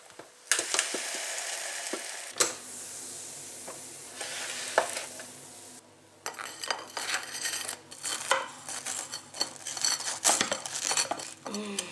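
An Emmental, mushroom and Tabasco sauce toastie sizzles and fries in a pan, with sharp metallic clinks of utensils and scraping stirs over the steady frying hiss, close by in a home kitchen.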